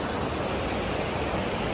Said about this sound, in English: here's one of the waterfalls we couldn't see this morning because it was dark